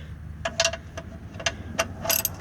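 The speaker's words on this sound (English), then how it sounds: "I'm going to get my wrench on the back first" A ratchet wrench turning a bolt on the rear center mount of a Mazda 6, a few quick bursts of light metallic clicking, close and clear, with pauses between strokes.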